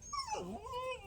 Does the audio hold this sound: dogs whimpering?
yes